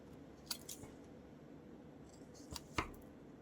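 Scissors snipping paper for a small collage, a few sharp isolated cuts heard close up against quiet background.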